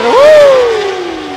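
A motorbike at the 2023 Indonesian motorcycle Grand Prix whines past close by, its pitch rising quickly and then sliding down as it moves away.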